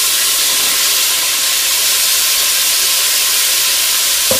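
Sliced bell peppers and onion sizzle loudly in a pan with browned pork tenderloin, a steady close hiss that holds evenly throughout with a faint clink near the end.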